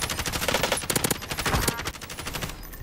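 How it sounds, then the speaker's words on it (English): Automatic gunfire in the Warzone video game rattles in rapid bursts, steady rhythmic shots at mid distance with a brief pause, loud throughout and with no talking over it. "Is that you shooting?"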